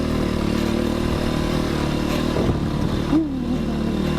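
A motorcycle engine runs nearby with a steady, rattling drone, a brief rise in pitch near the end, and no voices.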